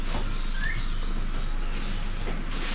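An African grey parrot gives a brief high chirping whistle over a constant low hum, fairly close, with a few faint clicks around it.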